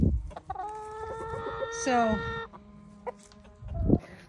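Chickens cluck near a backyard chicken coop on a homestead, with one drawn-out, crow-like call rising in the middle, loud and close. A person says a word at the start.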